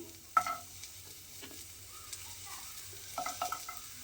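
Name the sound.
sliced onion being stirred and fried in oil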